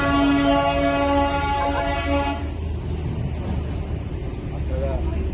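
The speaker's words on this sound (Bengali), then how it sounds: "ট্রেনের শব্দ কিছুক্ষণ পর পর শুনতে পাচ্ছেন।" A train on the way to Darjeeling sounds a loud, steady horn for about two seconds, then rolls on as a broad rumbling noise with faint voices in the background.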